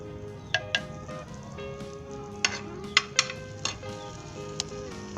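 Chopped carrots fry in about a tablespoon of oil on a tawa for an Afghani chicken pulao, giving a soft, steady sizzle close by, punctuated by several sharp clinks and scrapes of a metal utensil stirring against the pan.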